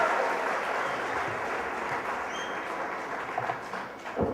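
An audience applauds performers with steady, dense clapping that carries on throughout, fairly loud and close, with a few louder claps near the end.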